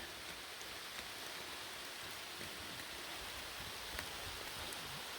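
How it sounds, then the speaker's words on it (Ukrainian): Steady rain pours down in a dense, even hiss, close by and continuous, with no voices. "А дощик іде, ліпить, я вже мокрію"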